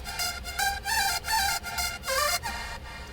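A synth part for a nightcore-style track plays bright, rhythmic stabs with short gaps between them and a few gliding pitch bends, over a soft low hum. No voices are heard.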